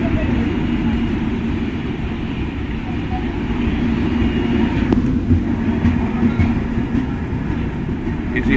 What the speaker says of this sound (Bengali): হাওড়া নিউ দিল্লি নেতাজি এক্সপ্রেস 1 নম্বরে ঢুকছে